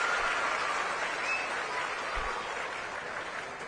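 A large outdoor audience at a stage event applauds to welcome Bankim Da, a dense, even wash of clapping that fades slightly toward the end.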